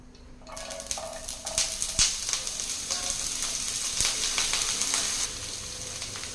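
Sliced small onions drop into hot oil for an egg and bottle gourd masala, setting off a sudden sizzle that swells and then holds as a steady crackling hiss, with a few light clinks of the pan.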